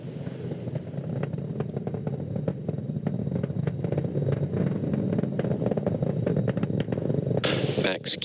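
Deep, continuous low rumble of a SpaceX Falcon 9 rocket's engines during supersonic ascent toward max Q on the CRS Cygnus NG-21 launch to the ISS, a steady roar with crackling bursts and a voice talking over it.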